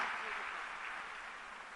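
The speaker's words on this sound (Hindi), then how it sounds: "आपकी तालियां भी एक साथ डबल तेजी के साथ, ऊर्जा के साथ, उत्साह के साथ" Audience applause in a hall for two honoured students from the same school at a Delhi government ceremony for JEE and NEET achievers, a steady moderate clapping wash that slowly fades.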